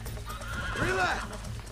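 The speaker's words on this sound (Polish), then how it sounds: "Teraz ujeżdżam jednego z najlepszych koni, teraz w Red Red Redemption." A horse neighs and whinnies in Red Dead Redemption while being broken in, one loud wavering call rising and falling over a steady low background of game ambience.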